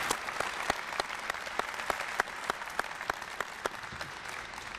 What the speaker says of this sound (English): So if we could give a round of applause to Major Gonzalez.